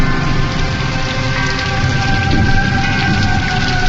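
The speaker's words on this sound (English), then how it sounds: "It was a dark and stormy night." Steady, dense rain pours down through a stormy night, a continuous hiss with low rumbling beneath that suggests distant thunder, holding at an even, loud level throughout.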